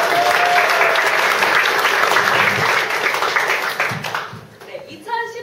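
An audience claps steadily for about four seconds at a gathering, a dense even round of applause that fades out as a voice begins speaking at the end.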